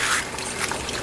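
Water from a small garden pond crowded with water hyacinths spills over a little waterfall into a larger pond, making a close, steady broadband trickle and splash throughout.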